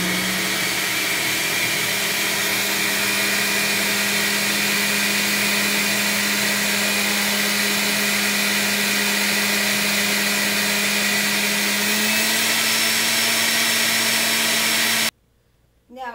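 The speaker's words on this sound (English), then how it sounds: "We're going to put on the lid of the blender, and we're going to blend it up" A blender blends green soup, running continuously at high speed, a loud whirring roar that holds steady for about fifteen seconds before cutting off abruptly.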